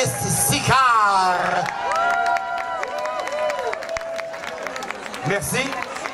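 An audience at an Elvis impersonator contest applauds and cheers, with steady clapping, whoops and shouts under a loud sustained tone, while a host talks over it.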